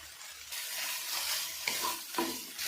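Tomatoes and green chillies sizzle and hiss in a hot pan, with a few sharp scrapes of a spoon stirring them, close and fairly quiet.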